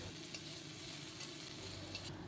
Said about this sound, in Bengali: দিয়ে একটু নেড়ে চেড়ে হালকা লাল করে ভেজে নেব